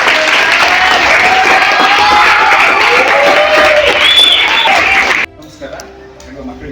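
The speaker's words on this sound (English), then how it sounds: "let's thank Naveen with a big round of applause." An audience at a zoology museum event in Karnataka applauds and cheers for Naveen, loud close clapping mixed with whoops and shouts that cuts off abruptly, leaving quieter room sound.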